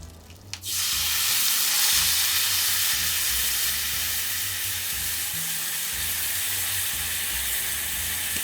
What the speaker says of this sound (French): Je prends mon alcool et je vais déglacer. On doit entendre une réaction.